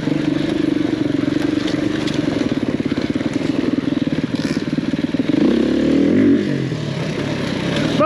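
A big enduro motorcycle engine chugs loudly and steadily close by, its throbbing pulse holding even before shifting as the bike changes pace near the end.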